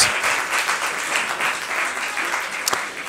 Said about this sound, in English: Big round of applause for our candidates.